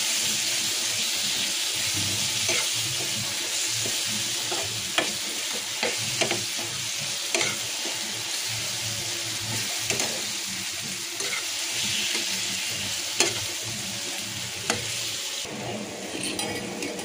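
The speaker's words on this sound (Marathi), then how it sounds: "आपण चांगलं फ्राय करून घेऊ मिरचीला पण." Chillies fry and get stirred in a pan for a homemade chutney, giving a steady close sizzle with irregular scraping stirs and clicks throughout, and no talking.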